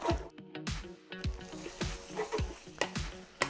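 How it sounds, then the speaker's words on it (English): Pad Thai noodles sizzling in a hot pan as peanut sauce is stirred through, with a continuous wet sizzle and repeated scraping, squishing strokes of a spoon at a steady stirring rhythm. "get that in with your spoon and then stir that around"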